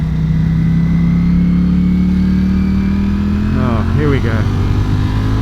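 A Ducati Panigale V4S motorcycle engine pulls hard and loud from close by, its steady drone climbing in pitch as the bike accelerates and lifts its front wheel, with a rider's brief exclamation near the end.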